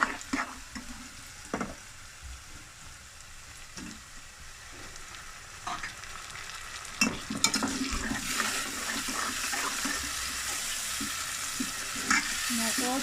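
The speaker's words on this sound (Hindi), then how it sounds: "टमाटो, प्याज और लहसुन को अच्छी तरह से हम फ्राई करते हैं" Onion, garlic and tomato sizzle steadily in a hot pan, with scraping and stirring noises breaking in now and then throughout.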